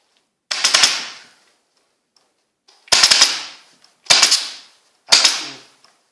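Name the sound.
upholstery staple gun firing while recovering a chair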